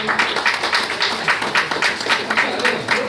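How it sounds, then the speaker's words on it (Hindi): Audience at a network marketing meeting claps in a steady, broadband patter of many hands, moderately loud and fairly close, with faint voices mixed in. "सर के लिए तालियां"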